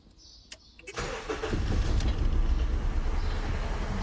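A Honda Civic FD with a shaking-engine fault has a few clicks, then the starter whirs and the engine catches and settles into a loud, rough idle close by.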